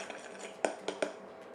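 A spoon stirs thick hollandaise sauce in a bowl, giving three distinct clinks against the side over a quiet room background.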